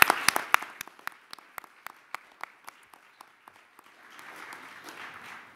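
An audience at a 3D storytelling event applauds, with sharp separate claps at first that thin into a sparse rhythm and then fade into a softer, steady patter.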